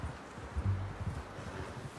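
Horse hooves clip-clopping in Red Dead Redemption 2, a few soft, uneven hoofbeats on the ground over low rustling, fairly quiet and close.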